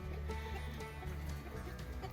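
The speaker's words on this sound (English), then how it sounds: "And then over here, we have the chicken coop." Chickens clucking inside a backyard coop on a rocky hillside property, several soft, repeated clucks and murmurs at moderate distance, fairly quiet and continuous.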